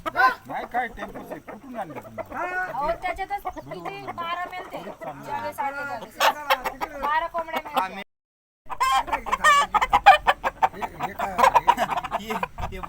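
Chickens cluck and squawk close by in busy, overlapping calls, with people talking among them and a brief gap of silence.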